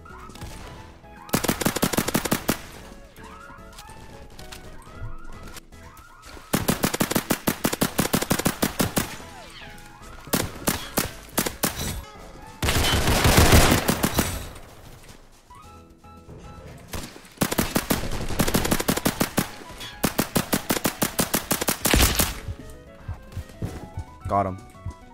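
Rapid automatic gunfire from the Roblox game Criminality comes in repeated loud bursts separated by short pauses, with a player talking between them.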